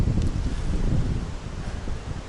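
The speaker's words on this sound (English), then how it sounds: "Oh, there's that wind." Steady wind roars and buffets against the microphone while riding a 1980 Nishiki gravel bicycle outdoors, a dense, continuous low rumble throughout with no speech.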